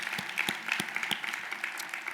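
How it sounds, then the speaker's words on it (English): Applause at a luncheon in Cleveland: quiet, somewhat distant clapping from a room of guests, a soft continuous patter with a few sharper hand claps standing out near the front. "So could we give them a round of applause?"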